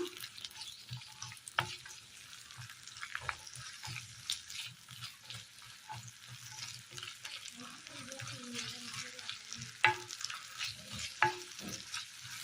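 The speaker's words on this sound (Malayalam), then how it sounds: "ചൂടായി വന്ന എണ്ണയിലേക്ക് നമ്മൾ അരിഞ്ഞു വെച്ചിരിക്കുന്ന ചെറിയുള്ളി ഇട്ട് കൊടുക്കാം" Chopped shallots sizzle and fry in hot oil while a utensil stirs and scrapes the pan, with occasional clinks; a voice murmurs briefly in the background.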